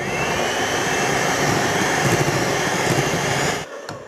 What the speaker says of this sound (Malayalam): ഇത് നന്നായിട്ടൊന്ന് ബീറ്റ് ചെയ്ത് കൊടുക്കാം